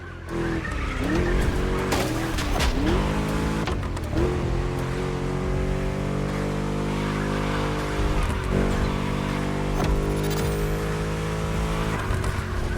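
A Ford Mustang V8 in The Crew Motorfest revs loud and close, its engine note climbing and dropping through gear changes, with tyre squeal and skidding between surges.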